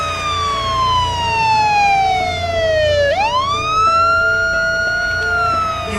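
A police car siren wails loud and close, a single long falling tone that swoops back up and holds high, with a faint vehicle rumble underneath.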